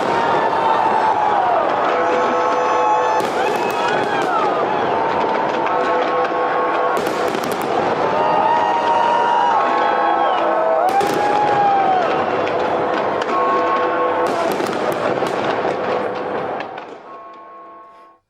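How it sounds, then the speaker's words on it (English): New Year's midnight fireworks over the River Thames in London, by the London Eye, crackle and boom in dense, overlapping bursts, with a crowd faintly audible underneath; the barrage stays loud throughout, then fades away at the very end. "revelers flocked to the banks of the Thames to witness the traditional London fireworks"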